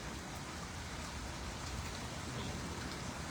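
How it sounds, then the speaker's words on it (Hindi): Light drizzle falls in Bilaspur, a soft, even hiss of raindrops on surfaces that stays steady and faint throughout, with no voices heard. "ये देखिए, बूंदाबांदी एक बार फिर से शुरू हो रही है"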